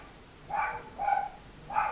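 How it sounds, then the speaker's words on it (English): A puppy barks three times in short, evenly spaced yaps, close and fairly loud indoors, with no talk over it. "Let me just stop Sydney barking."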